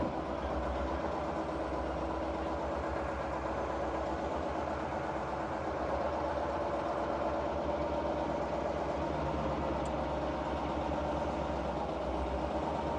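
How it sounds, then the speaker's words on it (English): A CAT military scraper engine idles without revving fully, giving a steady, close, low diesel rumble with a rapid pulsing throb that holds even throughout, no voices. "I don't know why it's not revving up all the way."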